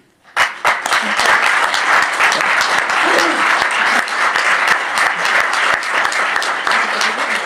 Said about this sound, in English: I ask a round of applause for him.